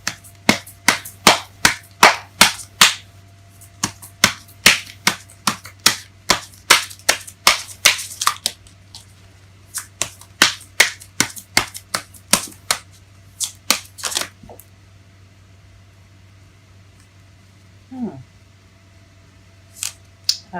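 Tarot cards being shuffled by hand at close range, giving a long run of sharp, rapid riffling snaps that thin out and stop after about fifteen seconds, with a low steady hum underneath.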